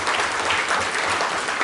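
A dense burst of applause fills a lecture hall at the end of a conference series, with steady, loud clapping throughout the brief moment.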